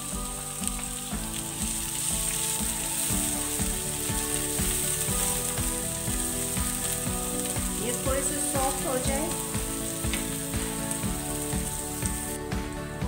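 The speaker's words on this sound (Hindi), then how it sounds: "हल्के से सौते हो गए हैं इसमें अनियन डाल लेंगे" Onions sizzle and fry steadily in a hot pan, a close, continuous crackle with occasional scraping and stirring clatter, and no voice over it.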